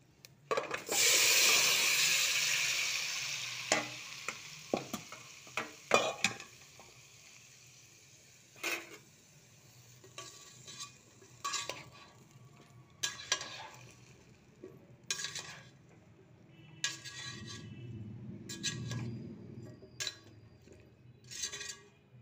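Vegetables with green chilli frying in a pan, a loud burst of sizzling up front settling into steady crackle, with repeated scraping and clacking strokes of a spoon stirring through the pieces; no talking.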